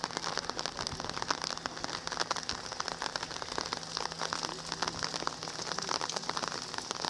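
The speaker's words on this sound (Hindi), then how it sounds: "बारिश हाले भी जारी है जी" Steady rain falling and pattering on surfaces, a dense continuous crackle of drops with a faint low hum underneath, moderately quiet and without talk.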